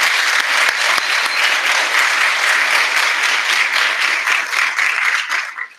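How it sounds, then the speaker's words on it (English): Applause rises from the audience at a firefighter academy graduation for Class 171, a full, steady clatter of many hands that holds evenly and then fades out quickly in the final moment. "join me in a round of applause for these individuals"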